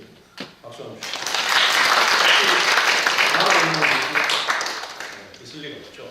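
Audience applause at a university debate competition awards ceremony swells after a brief pause into a dense, sustained wash of clapping for several seconds, then gradually thins toward the end.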